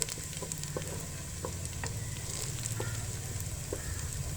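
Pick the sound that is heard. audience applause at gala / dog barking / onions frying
onions frying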